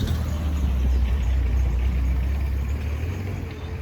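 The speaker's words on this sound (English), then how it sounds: "Excuse the car behind me," A car or truck rumbles steadily behind someone by a winter carp-fishing swim, a low continuous engine drone that stays fairly loud throughout with no clear pass-by peak and no talking.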